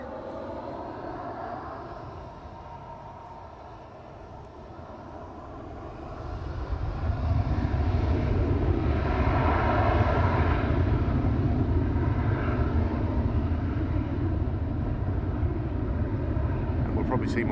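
A Boeing 737 jet lines up on the runway for takeoff at Lanzarote, its engine roar swelling from a steady distant whine into a loud, broad rumble heard from outside the airfield, with a person talking over it.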